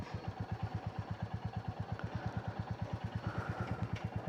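A Royal Enfield Classic 350 motorcycle's air-cooled single-cylinder engine while riding at a steady 40 to 50, a close, even thumping beat with wind and road noise around it.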